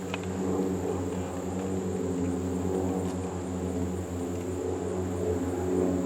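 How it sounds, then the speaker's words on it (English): Three airplanes fly together far overhead above an outdoor muzzleloader shooting range, their engines a faint, steady droning hum that persists throughout with no other sound standing out. "Oh man, the planes are back and you can't see them that far away."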